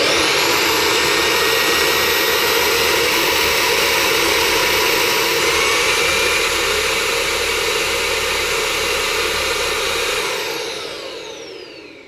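A Beldray Roller cordless vacuum cleaner runs close and loud as a steady high whine with a broad rushing hiss, holding level for about ten seconds before winding down at the end.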